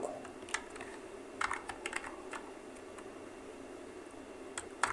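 Quiet, close typing on a computer keyboard while writing text in Canva, with irregular bursts of key clicks over a faint steady background and no talk.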